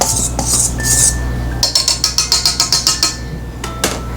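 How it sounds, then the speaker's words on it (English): A whisk clinks rapidly against a bowl while stirring dry cookie ingredients, a run of about a dozen quick, evenly spaced metallic taps that sound close and fairly loud after a softer scraping start. "I'm going to whisk the dry ingredients just a little bit more"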